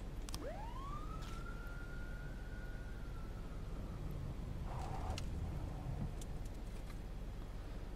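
A video game police car siren wails once, sweeping upward then holding its pitch, fairly faint over a steady background hum.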